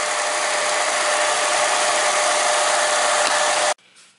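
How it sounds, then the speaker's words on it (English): An older Dremel scroll saw taking a 3-inch blade runs at a steady buzzing, rattling whir, then cuts off abruptly near the end and leaves a faint winding-down hum. "This is an older model Dremel scroll saw, and it takes a 3-inch blade."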